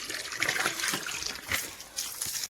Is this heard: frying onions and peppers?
no